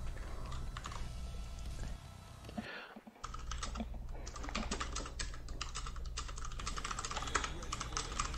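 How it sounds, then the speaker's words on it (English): Rapid typing on a computer keyboard, steady clattering keystrokes close by, with a short pause near the middle before the typing resumes, no talking. "Let me type in the Discord."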